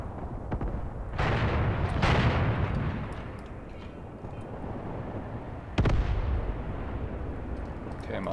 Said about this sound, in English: Artillery is providing support, targeting these enemies.